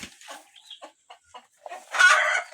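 Chickens at a small farm clucking in short, scattered calls, then a louder burst near the end, close and alone.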